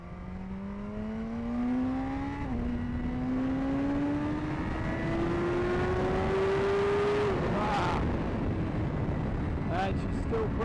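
A BMW S1000RR motorcycle with an Akrapovic GP exhaust rides on country roads, its engine whine climbing steadily through a gear, briefly dipping at a shift, then roaring higher before backing off, with wind buffeting close.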